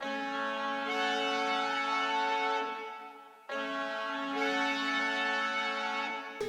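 A synthesized trumpet chord loop layered with a duplicate pitched up an octave and panned, bright stacked brass chords sustaining through two repeats with no talking.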